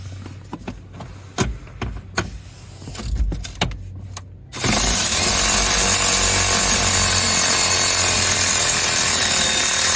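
A power tool runs steadily and loudly for several seconds, removing a 10mm bolt on a 2020-2024 Toyota 4Runner, after a few quieter clicks and handling noises.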